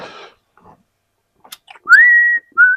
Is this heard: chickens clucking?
no